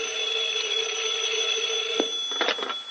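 A telephone rings with a bright, continuous electric trill in a 1946 radio drama, steady and fairly loud for nearly three seconds, with a few clattering bursts toward the end.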